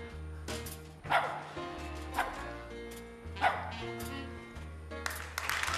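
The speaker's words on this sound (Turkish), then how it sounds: "O çok çok akıllı bir köpek." A dog at a televised Turkish show barks in several sharp, loud bursts about a second apart, over steady background music and crowd noise.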